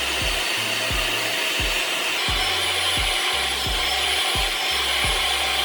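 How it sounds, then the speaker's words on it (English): An upholstery brush scrubs the surface of a dirty couch in regular back-and-forth strokes, about nine rough swishes in a row, close up over a constant whirring machine hum. "I'm going to use an upholstery brush first to gently scrub the surface of the couch"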